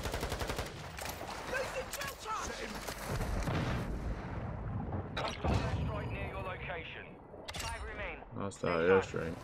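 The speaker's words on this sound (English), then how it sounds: "Hostile airstrike." Call of Duty Warzone airstrike blasts and rattling gunfire rumble in heavy, overlapping bursts with deep booms, mixed with game chatter and a player's voice throughout.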